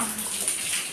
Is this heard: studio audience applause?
no